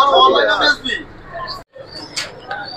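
Pigeons coo at a busy pigeon market in Tongi, with bird calls heard under and between close conversational voices.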